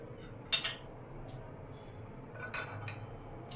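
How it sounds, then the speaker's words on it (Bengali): A spoon mixes ingredients with ghee in a bowl, making a few faint metallic clinks and scrapes, one sharper knock early and softer scraping later, with no talk. "আগে এটা একটু মিশিয়ে নিলাম।"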